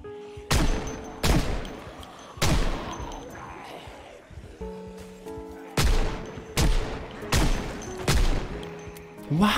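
Gunshots in the zombie survival game Project Zomboid, a series of loud, sharp single shots at uneven intervals, each with a booming tail, heard close with faint background game ambience.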